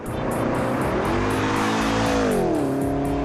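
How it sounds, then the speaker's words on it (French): Wiesmann GT, a handbuilt high-end sports car with BMW components, on a slippery race circuit: a loud, close engine note rising and falling through gear changes, with tire squeal and a continuous roar throughout. "Après quelques tours de chauffe sur une piste glissante et piégeuse, la Wiesmann se met immédiatement en valeur."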